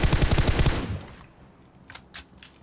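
Rapid automatic gunfire in PUBG Mobile, a loud close burst of shots that fades after a second, followed by two or three fainter distant shots, with no speech.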